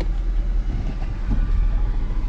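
A Nissan 240SX with an SR20DET engine idles just after its first start: a steady, low, rumbling drone runs throughout at moderate loudness, with no talk over it.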